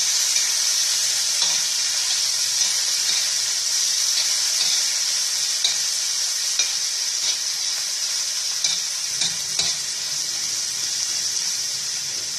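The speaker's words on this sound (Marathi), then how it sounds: "आपण ह्याचा बोंबील तेल भाजून घेणार आहोत" Dried Bombay duck (bombil) frying in oil in a pan, giving a steady, loud, hissing sizzle that holds throughout, with faint stirring clicks now and then. Close and continuous, with no talking.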